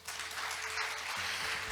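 An audience claps throughout at a forum opening ceremony, a dense, steady round of applause from a crowd filling the room.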